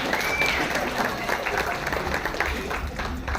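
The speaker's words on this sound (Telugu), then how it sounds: "claps claps" Applause from an office gathering at a Defence Accounts Department day event in Vizag: a dense, steady patter of many hands clapping, with a voice speaking over it.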